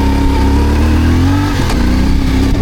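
A trail motorcycle engine revs up in first gear, loud and close, its pitch climbing steadily with a brief throttle blip near the end.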